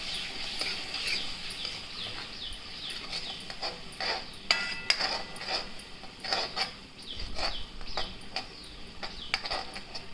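Spices and chilli powder being stirred in a pan for a Kolhapuri vegetable dish: a low frying sizzle runs throughout, punctuated by repeated scraping and tapping strokes of a spoon against the pan.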